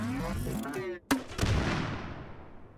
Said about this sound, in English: Let's try a grenade.